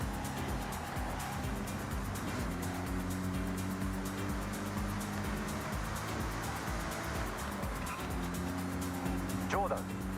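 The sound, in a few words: Mazda MX-5 car driving in a racing video game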